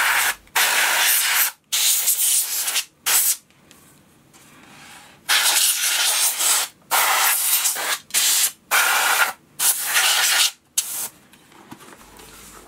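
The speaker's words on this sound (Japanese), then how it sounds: "外れたところで結構ホコリがついていますので、エアダスターでホコリをきれいに飛ばします。" Canned air duster blasts dust off a Western Digital 6TB hard drive pulled from a Synology DS218j NAS, in about eight sharp, close hissing bursts of varying length separated by brief silences.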